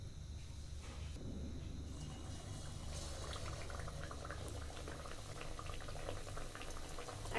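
Rice pakora rolls fry in hot oil, giving a continuous soft sizzling and bubbling hiss with scattered small crackles, steady and fairly quiet throughout with no speech.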